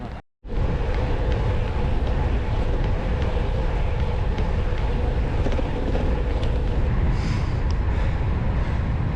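Strong wind buffets the microphone while cycling on a long gravel-flavoured road ride, a loud continuous roaring rush with no speech, after a brief dropout at the start.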